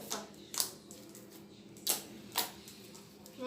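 Soft slime squeezed by hand to make clicking sounds, four or five sharp close pops spaced irregularly over a quiet background.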